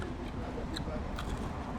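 Crunchy fried chicken wing drumstick from a Chinese takeout in Newark being bitten and chewed up close, with a few crisp crackles in a steady, dense chewing noise throughout.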